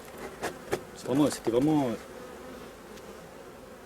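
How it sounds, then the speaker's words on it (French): Bees from a hive in its last check of the year buzz in short close swells, with a hand's rustle and brief noises around them. "Il est toujours plein d'abeilles"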